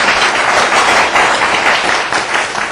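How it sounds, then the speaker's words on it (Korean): An audience claps at a talk concert event, a loud, dense, continuous wash of applause from many hands that holds steady throughout and eases only slightly near the end. "아니, 박수 쳐드립니다."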